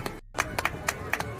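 Friends clapping in a played-back recording, a handful of sharp, irregular hand claps over a busy background of voices and room noise.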